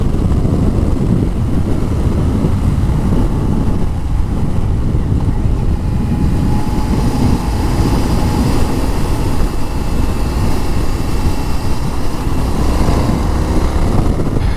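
An Indian FTR 1200 Carbon R motorcycle being ridden, with a constant loud rush of wind and engine drone and the engine note rising under acceleration, heard close from the rider's position throughout.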